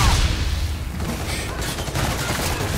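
Sidearm gunfire in the video game Call of Duty: Infinite Warfare, dense rapid bursts of shots and impacts layered together continuously at high loudness.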